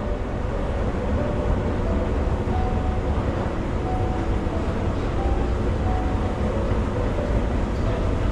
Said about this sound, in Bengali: এবার এই পার থেকে ট্রেন ধরে আমি যাব।